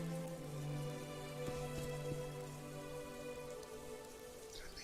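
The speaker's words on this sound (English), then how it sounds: "the raindrop mod is actually sort of working" Rain from a raindrop mod in the game Morrowind falls in a soft, steady hiss of drops on surfaces, fairly quiet and continuous, with faint sustained tonal hum beneath.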